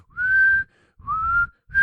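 A voice whistles in imitation of an out-of-tune recorder played by schoolkids, three sustained wavering shrill notes with short gaps between them, close and clear.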